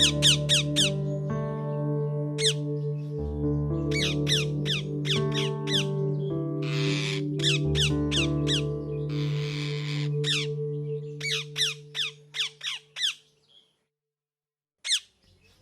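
Cartoon parrot in a kids' animated story squawking in a rapid series of sharp, shrill calls over a sustained musical backing, with the calls continuing in short bursts after the music fades out.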